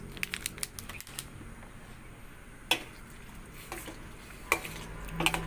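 Macaroni with powdered cheese stirred in a pot, soft scraping and clicking strokes at irregular intervals with a few louder knocks, close but fairly quiet.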